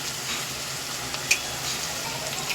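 Curry gravy for Rayalaseema-style taro root (chamagadda) stew being stirred in a pan after coriander leaves, coriander powder and garam masala go in, a steady low sizzle and frying hiss with a soft clink of the spoon partway through.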